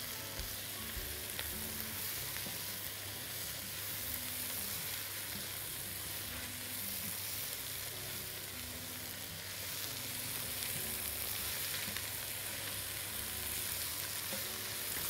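Spinach and coriander sautéing in a pan for spinach soup, giving a steady, low, even sizzle that carries on alone with faint stirring and no voices.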